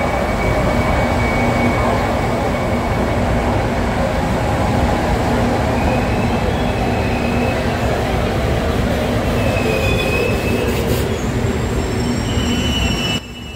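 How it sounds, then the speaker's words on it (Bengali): A metro train pulls into a Kolkata station with a loud, close rumble of wheels and carriages, high squeals rising over it, and the noise drops away right at the end. "আমার কাছে মেট্রো স্টেশনে আসার যে সাউন্ডটা করে যে সাউন্ডটা হয় বেশ ভাল লাগে"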